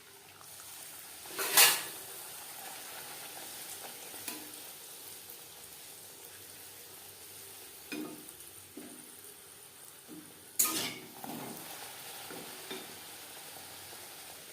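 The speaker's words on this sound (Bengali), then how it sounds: "ভেজে নেব।" Luchi, soft whole-wheat flatbread, frying in hot oil for a crisp finish: a quiet steady sizzle with a few sharper bursts of spattering, close and alone without talk.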